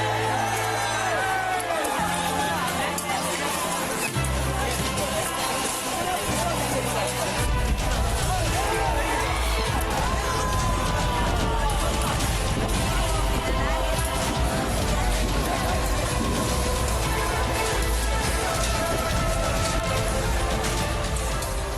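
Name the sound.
violent crowd rioting at a school in Kallakurichi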